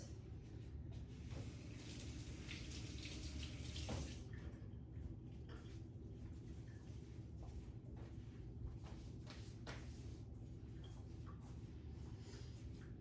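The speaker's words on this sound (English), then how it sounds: "I'm going to rinse just so that I can get into some of my yellow colors" Tap water running over hands as blue dye is rinsed off, a steady faint splashing stream with occasional louder spatters, no voices.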